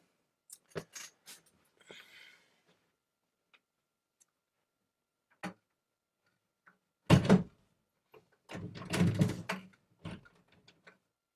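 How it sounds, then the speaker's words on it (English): A door moves with scattered clicks and knocks indoors, including a sharp thud and a louder rattling, creaking stretch near the end, separated by quiet gaps. "Door can be weird sometimes."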